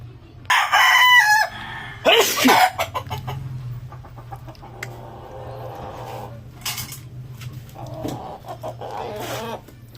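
A rooster crows loudly nearby, followed by hens clucking and scattered clattering; some faint voices murmur in the background.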